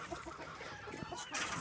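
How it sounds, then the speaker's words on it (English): Chickens cluck in a busy, cluttered flock scene, with scattered short calls overlapping at moderate distance and no clear speech. "we've got about a kajillion chickens"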